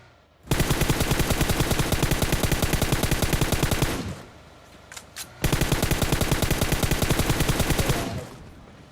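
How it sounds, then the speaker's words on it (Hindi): Sustained automatic gunfire in PUBG Mobile, fired from a moving vehicle: two long, loud bursts of rapid shots separated by a short pause with quieter engine and ambient noise between them. "चलती गाड़ी से गोली चलाने की पूरी तैयारी है अभी"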